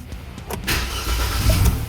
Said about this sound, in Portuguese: Segunda tentativa. Pegou! Esse motor está vivo.